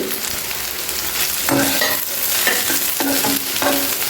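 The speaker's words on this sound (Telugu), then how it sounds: "ఇందులో ఈ కాకరకాయ ముక్కలు కూడా వేసేయండి" Bitter gourd pieces go into a hot frying pan with oil, giving a steady sizzle with several sharp scraping and stirring clatters of a spatula against the pan, close and fairly loud.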